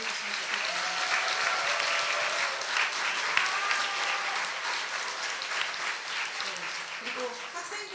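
Sustained applause from an audience for four student presenters at a school academic festival, steady and fairly loud across the whole stretch, with a speaker's voice briefly heard over it.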